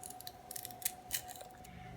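Knife cutting a piece off fresh ginger, a couple of quiet crisp slicing crunches against a faint steady background hum, close and without talking.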